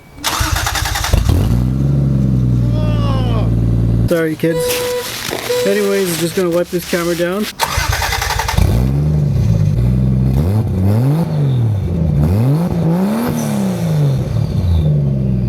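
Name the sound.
Toyota Supra engine exhaust revving, cat delete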